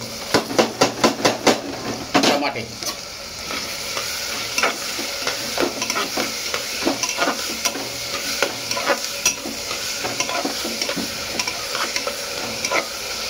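Onions and tomatoes sizzle in a pan for dal khichdi while a spoon stirs and scrapes with quick rhythmic knocks against the metal, close and steady throughout, with no voices.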